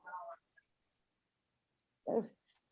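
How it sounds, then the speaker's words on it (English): Young puppies give two short, faint barks about two seconds apart, with silence between the yips. "Okay, and then we have some new dogs today."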